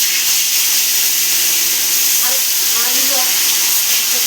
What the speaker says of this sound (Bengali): মাছগুলো হালকা করে ভেজে নিচ্ছি।